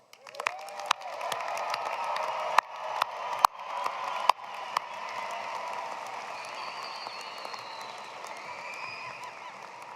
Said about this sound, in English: Let's offer them a round of applause